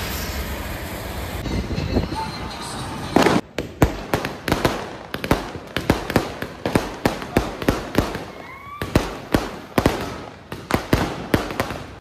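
Diwali firecrackers and fireworks bursting outdoors at a market in Mancherial, a rapid irregular series of sharp loud bangs and cracks over a steady background rumble of crowd and traffic.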